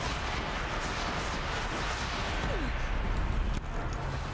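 Gunfire in the video game Horizon Zero Dawn: a dense, continuous roar of rapid shots and blasts, loud and unbroken for several seconds, cutting off sharply near the end.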